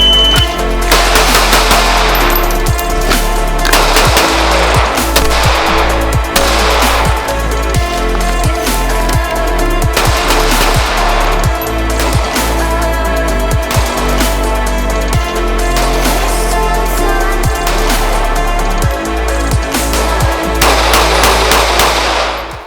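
Rapid, loud gunfire from a Smith & Wesson Bodyguard 2.0 pocket pistol, shots following one another in a steady string of sharp cracks for over twenty seconds, with no talk.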